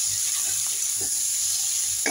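Chopped chillies and vegetables frying in a pan for ghugni make a steady, bright sizzle, with soft scraping stirs and a louder clatter at the end, close and without speech.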